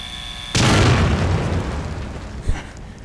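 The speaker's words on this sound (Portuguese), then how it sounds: "Explodiu na mesma." A trap exploding in The Evil Within video game, one sharp, loud blast breaking over a quiet hum and trailing off into a rumbling decay, followed by a smaller thump.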